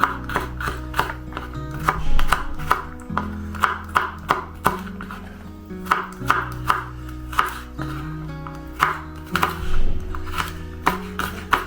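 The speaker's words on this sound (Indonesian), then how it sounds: "Ini akan saya chop. Jadi saya manual saja ini pakai pisau" Spices being chopped by hand with a knife on a cutting board after slicing; rapid, irregular close knocks of the blade in bursts, with a low background hum.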